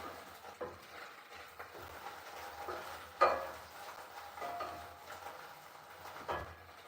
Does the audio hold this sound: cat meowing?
no